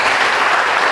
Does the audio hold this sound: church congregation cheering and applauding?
yes